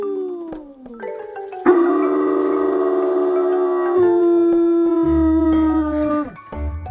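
A dog howls in long, wavering pitched tones that rise and hold, loud and close, with a faint jingle nearby and no speech.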